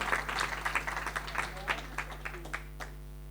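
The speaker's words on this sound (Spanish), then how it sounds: "Le brindamos un fuerte aplauso" Applause from the audience at an honorary doctorate ceremony at a university, a burst of clapping with a low steady hum beneath it, tapering off toward the end.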